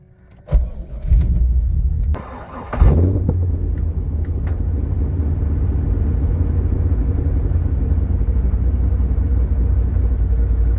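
A 1990s Chevrolet Corvette with a nearly 500-horsepower engine cranks and fires up, settling into a deep, loud, steady idle rumble heard up close, preceded by faint key and cabin clatter.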